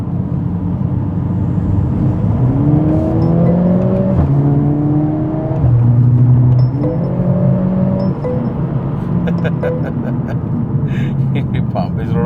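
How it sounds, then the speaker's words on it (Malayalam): Exhaust note of a Mercedes-AMG A45 S in Sport mode, driven in traffic, loud and close with rising and falling revs through several gear changes, under ongoing talk. "ഇതാണ് സ്പോർട്ടിൽ കിട്ടുമ്പോഴുള്ള എക്സോസ്റ്റ്"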